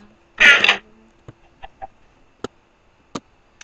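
A Minecraft-style video game chicken gives a short burst of clucking, followed by scattered faint clicks and ticks in an otherwise quiet game scene.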